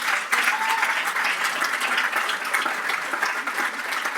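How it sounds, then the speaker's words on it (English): An audience at the NSW Premier's Awards applauds for Amanda, steady dense clapping sustained throughout, moderately loud and unbroken, with no voices over it. "Another round of applause for Amanda."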